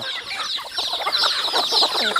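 Chickens cluck busily at a morning feeding on a farm, a dense, continuous chorus of overlapping clucks and squawks close by, with no talking.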